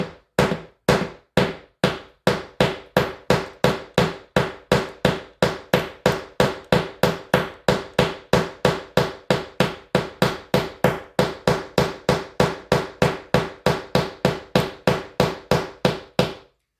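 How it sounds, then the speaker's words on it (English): A ball-peen hammer strikes a rivet on a saucepan lid handle over and over in a steady, even rhythm, dozens of sharp ringing blows close up with no pauses. "you're actually hitting the rivet in the middle, which is spreading the impact outwards"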